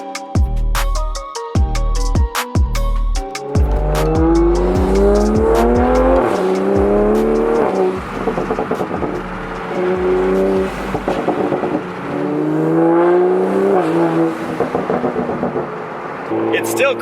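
Toyota Supra A90 engine revving hard through quick bursts, then rising and falling in pitch as the car accelerates and shifts, loud and close throughout.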